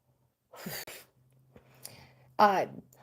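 A single sharp sneeze bursts out after a short breathy intake, followed by quiet murmuring and a brief voiced exclamation.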